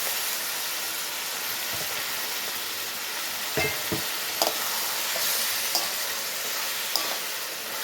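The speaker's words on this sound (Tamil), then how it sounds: "நல்லா வதக்கி விடுங்க. இது கூட நம்ம கட் பண்ணி வச்சுக்கிற உருளைக்கிழங்கும் போட்டுக்கலாம்." Chicken pieces are stir-fried in a pan, producing a loud, steady sizzle up close, broken by a few sharp scrapes and taps from the stirring spoon, with no speech.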